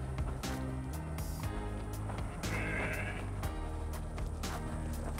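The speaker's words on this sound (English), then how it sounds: "we got our packet of sheep" Sheep bleat repeatedly on a farm during a border collie herding demonstration, several calls layered close together over steady outdoor background noise.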